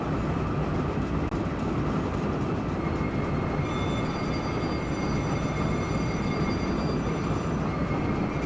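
Simulated train rolling in the OpenRails train simulator game, a steady, loud continuous rumble of wheels on rail with faint clickety-clack, running alone without voices throughout.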